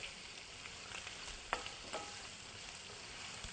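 Shrimp frying in a pan in a home kitchen, a quiet steady sizzle with a few soft stirring clicks and scrapes as the pieces are turned, close and low in level with no talking.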